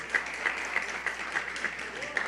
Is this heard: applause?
yes